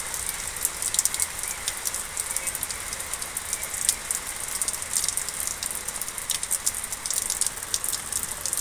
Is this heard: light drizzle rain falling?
yes